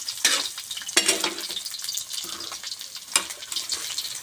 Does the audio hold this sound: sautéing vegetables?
yes